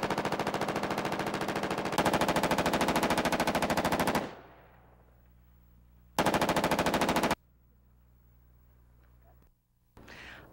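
A Steyr AUG rifle fires long, loud bursts of automatic fire, with several dense strings of rapid shots separated by quiet gaps and a short final burst at the end.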